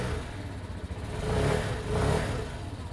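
A heavy motorbike with its stock exhaust runs nearby at a steady low rumble, swelling twice as the throttle is blipped, with no voices.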